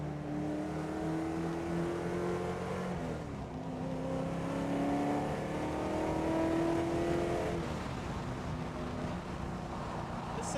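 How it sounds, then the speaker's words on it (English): Ford Falcon engine revving in second gear from inside the car, a steady droning hum whose pitch climbs, dips around the middle, rises again and then eases off, fairly quiet overall. "So normally when you rev your car,"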